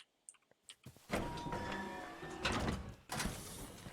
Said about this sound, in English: Go ahead and right click to see if you can't open it.